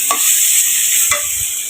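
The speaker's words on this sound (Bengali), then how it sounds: "সবজিটা কষাতে দিয়েছি, ভাজা ভাজা করে একটু হালকা পানিতে কষাই নেব" Vegetables stir-fried in a pan at home, heard as a close, steady sizzle with a couple of brief scraping stirs of the spatula.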